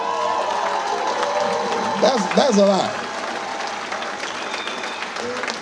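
An audience at a leadership school event applauds and cheers in a sustained, fairly even wash of clapping. A voice speaks briefly over it.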